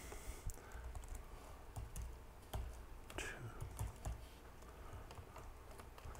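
Password being typed on a computer keyboard at a desk, a quick scattering of soft key clicks, faint and close, with no talking.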